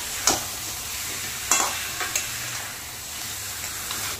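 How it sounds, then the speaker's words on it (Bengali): Fried fish head stirred with spices and potatoes in a pan for muri ghonto, a soft continuous sizzle broken by a few sharp, close spatula scrapes, with no talking. "মাছের মাথাটা দিয়ে মশলার সাথে ভালো করে নেড়ে চেড়ে নিতে হবে একটু"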